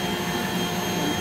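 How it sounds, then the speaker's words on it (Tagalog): A vacuum cleaner's nozzle is held to the entrance hole of a wasp nest, sucking the wasps out with a loud, steady whining roar that holds without a break. "halos hindi ako gumagalaw dito habang tinututo ko yung musol ng vacuum doon sa butas nila."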